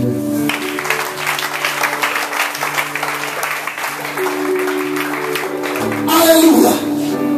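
A church congregation at a prayer and preaching service claps steadily and loudly, with sustained voices and music tones running beneath the applause and a brief louder burst near the end.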